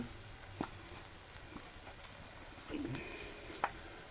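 Ridge gourd sautés in a pan with a soft, steady frying sizzle, broken by a few faint scrapes and taps of a spatula.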